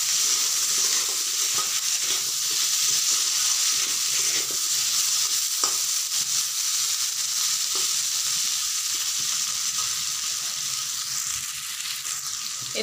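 Dried fish frying with potatoes and onions in a pan, a steady bright sizzle that continues throughout, broken by occasional scrapes and clinks as the mixture is stirred, up close and with no talking.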